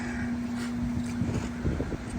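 Wind buffets the microphone in a continuous low rumble, with a steady hum running underneath and no voices.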